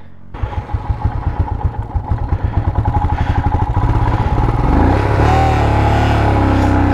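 A motorcycle engine strains on the road to Everest, starting as rapid, loud, even thumping that speeds up and then merges into a steady high rev.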